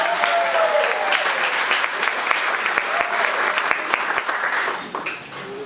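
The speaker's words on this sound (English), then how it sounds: "This is a good time to applaud." Audience applause fills a church talent show at a Lutheran congregation, steady clapping from a full room that holds loud for several seconds and tapers slightly at the end.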